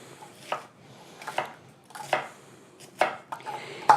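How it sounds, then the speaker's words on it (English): A knife chops onions on a cutting board in a home kitchen, about seven or eight crisp, separate knocks in an uneven rhythm, close and clear, with no talking. "this is how I cut my onions"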